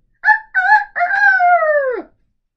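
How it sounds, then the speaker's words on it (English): A rooster crows loudly and close, a few short rising notes leading into a long, drawn-out final call that drops away at the end. "Then they heard a familiar happy crow."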